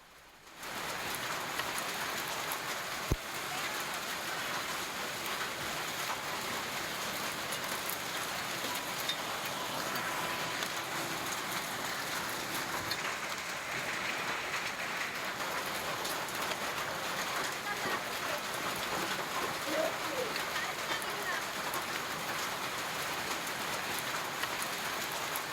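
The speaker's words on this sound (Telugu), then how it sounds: "ఇక పెద్దపల్లి జిల్లాలో భారీ వర్షం కురిసింది." Heavy rain pours down in Peddapalli district, Telangana, during a storm with gusty winds, as a dense, even hiss that holds steady for about twenty-five seconds with no voices.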